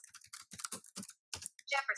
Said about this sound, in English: So I am going to start typing about Thomas Jefferson.